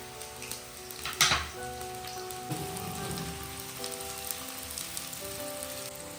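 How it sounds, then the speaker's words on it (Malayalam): Onions frying in oil for a Kerala chicken biryani, a steady crackling sizzle like rain on a surface, with a brief louder burst early on. "ഉള്ളി ഇട്ടിട്ട് അത് ഫ്രൈ ചെയ്തെടുക്കണം, കുറേശ്ശെ ഇട്ടിട്ട് ഫ്രൈ ചെയ്തെടുക്കണം"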